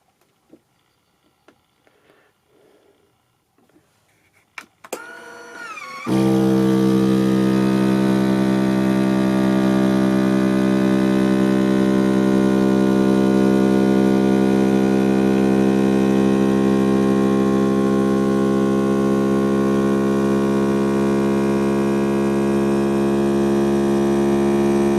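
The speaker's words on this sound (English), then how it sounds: "You use your vacuum sealer attachment." A vacuum sealer with a jar attachment pumps air from a canister holding a sealed jar: quiet handling for the first few seconds, then a steady, loud motor hum that runs unbroken to the end.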